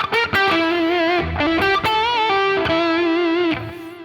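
Electric guitar picked with distortion, playing a sustained melodic line of bent and held notes with a gritty, harmonically rich tone, loud and continuous for about four seconds with no talking.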